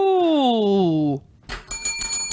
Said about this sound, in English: Let's see how this bell sounds in this new microphone.